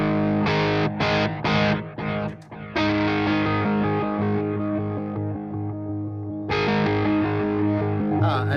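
An electric guitar runs through distortion effects on a pedalboard, several chopped, gritty chords followed by a long sustained distorted chord that slowly decays, then a fresh strum near the end, loud and up close.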